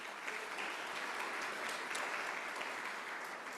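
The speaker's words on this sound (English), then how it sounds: "Give yourselves a round of applause as well." Steady applause from a sellout audience at a New Mexico governor candidate forum, dense continuous clapping filling the room at a moderate, even level without pause.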